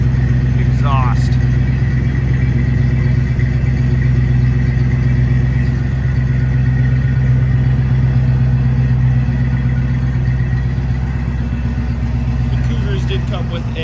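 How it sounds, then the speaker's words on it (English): A 1960s-style Mercury Cougar convertible with a 390 V8 idles with a deep, steady burbling exhaust rumble, loud and close, while a person talks over it. "Man, listen to that exhaust."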